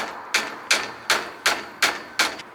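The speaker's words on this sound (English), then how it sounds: "I'm going to attack this seat with a hammer" Hammer blows strike a bike seat during a jump bike restomod. Six sharp, loud impacts land at a steady rhythm about a third of a second apart, each ringing briefly before fading.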